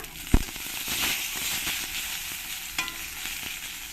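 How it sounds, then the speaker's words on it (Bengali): Whole spices, cumin, dried red chilies and bay leaves crackling in hot oil for mushroom masala, a bright dense sizzle with a sharp pop at the start and a few later crackles, close up. "এবার আমি এই তেলের মধ্যে দিয়ে দেব গোটা মশলা জিরে শুকনো লঙ্কা দিয়ে দেব দু তিনটে তেজপাতা"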